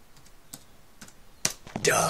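A few scattered keystrokes on a computer keyboard as someone types a password: sparse, quiet taps that end in a louder, busier burst of key presses.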